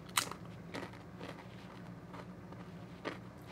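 Tortilla chip loaded with guacamole bitten once with a sharp close crunch, followed by a few softer crunches of chewing, quiet overall.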